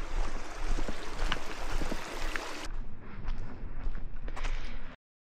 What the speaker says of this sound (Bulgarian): И дясно има много хубава рекичка.